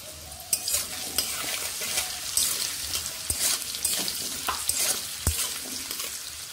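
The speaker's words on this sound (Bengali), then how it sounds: "গাজরগুলোও ভাজা হয়ে গেছে" Salted carrots frying in a pan for a vegetable dal sizzle steadily while a utensil scrapes and stirs in repeated strokes, close up and without speech.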